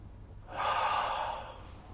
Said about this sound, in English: Now I'm just going to get us all to take 4 very nice deep breaths